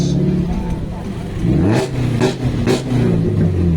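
A Toyota MR2 drift car's engine revs hard in repeated rising bursts at a car event, loud and close, with a crowd's voices underneath.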